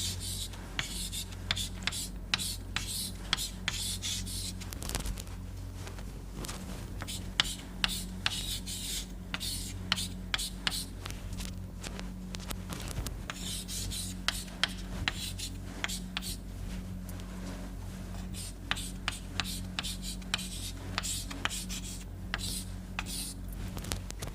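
Chalk or marker writing out equations for a lecture on oxidation kinetics: a steady run of short scratchy strokes and taps, fairly close, over a low constant hum, with no talking.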